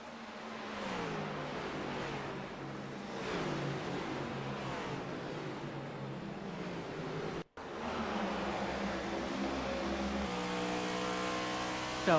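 An IndyCar race car at Indianapolis roars past with a continuous loud engine drone that rises and falls in pitch as it accelerates, with a brief dropout and a faint tire squeal.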